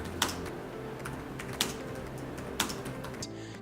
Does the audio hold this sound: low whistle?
no